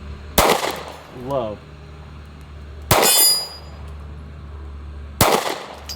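Three sharp, loud Smith & Wesson CSX pistol shots spaced about two and a half seconds apart, each a crisp crack with a short ringing tail, with a brief low spoken word in between.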